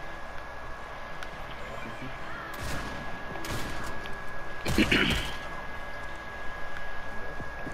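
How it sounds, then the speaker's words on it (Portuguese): Gunfire in Fortnite sounds as a few sharp bursts, the loudest near the end, rising over a steady game background. "só dei um tiro nele e morreu."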